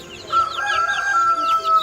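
A rooster crows loudly over steady hen clucking and chirping, close by and continuous, with no talking.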